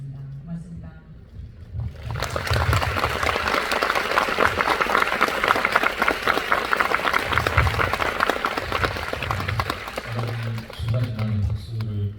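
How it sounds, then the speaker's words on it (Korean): Film festival audience at a post-screening talk bursts into applause after a short quiet lull with a low voice, the clapping swelling into a loud, dense roar that continues steadily to the end. "마지막에 큰 박수를 보내주신 것 같습니다"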